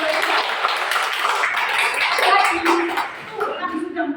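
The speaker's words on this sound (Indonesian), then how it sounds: "Beri tepuk tangan yang meriah." Lively audience applause at an Indonesian church gathering, a dense, steady wash of many hands clapping that fades toward the end as voices emerge.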